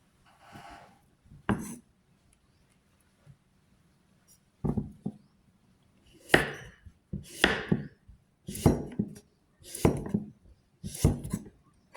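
Knife slicing ingredients on a cutting board for Isan fish curry with papaya, in several separate bursts of chopping strokes, close and fairly clear over a quiet kitchen background.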